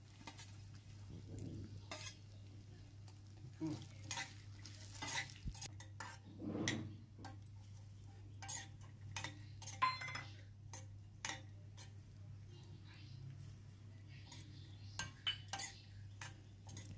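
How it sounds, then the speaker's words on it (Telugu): Dry fruits fry in two spoons of ghee in a pan, sounding as a soft, low sizzle under frequent clinks and scrapes of a spoon stirring against the metal, each short and close. "ఈ డ్రై ఫ్రూట్స్ని అన్నిటినీ ఫ్రై చేసుకున్నాను."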